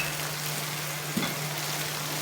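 Ginger garlic paste, green chili and cumin seeds frying in hot oil for a dhaba-style bhindi masala tadka, a steady close sizzle with one brief louder burst midway and no talking.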